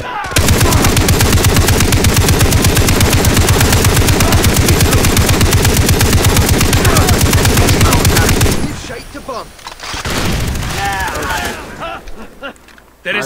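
Rapid sustained gunfire from a sniper in the video game Far Cry 3, loud and continuous for about eight seconds before cutting off, followed by quieter game sounds and a brief burst at the end.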